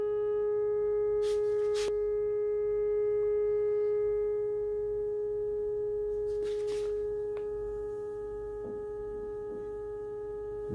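A steady calibration test tone for recording onto a ferro-chrome cassette, a constant pure pitch held throughout with faint background hum and a few brief clicks and noises.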